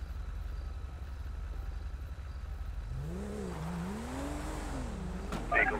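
A car accelerates away in a GTA roleplay game, its engine pitch rising and wavering in a sweeping, revving climb over a steady low background drone, ending in a brief sharper burst.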